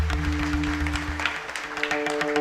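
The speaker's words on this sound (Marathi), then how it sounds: "जोरदार टाळी वाजवा." Audience clapping at a Marathi devotional kirtan performance, a dense, steady patter of many hands lasting the whole moment over a sustained musical drone.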